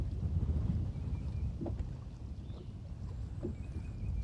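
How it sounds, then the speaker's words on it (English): Wind gusting over Smith Lake, a steady low rush buffeting the microphone, with faint scattered knocks beneath and no talk. "it's getting real breezy"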